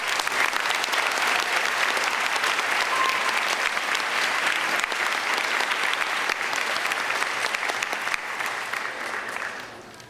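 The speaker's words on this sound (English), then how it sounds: "Let's give them a round of applause." Graduation audience clapping for 8th grade students, a full, continuous round of applause that stays loud for most of the stretch before thinning toward the end.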